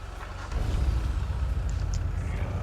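New Corvette C8 in the GTA FiveM video game, with a steady low engine rumble that swells up after a brief quieter start and holds loud and close.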